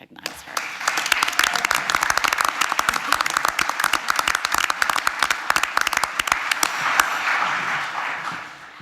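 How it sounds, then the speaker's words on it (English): A courtroom audience at a Texas State Bar Q&A session breaks into loud, sustained applause, many hands clapping densely for several seconds before tapering off, with a brief spoken word near the end. "let's give the court one last round of applause."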